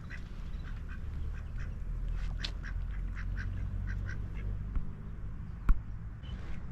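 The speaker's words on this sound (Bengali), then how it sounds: "সৌদি আরবে আমাদের দেশি হাঁস।" Domestic ducks at Wadi Namar Park in Saudi Arabia quack in a loose series of nasal calls, moderately near, over a low rumble of ambient park noise, with one sharp knock near the end.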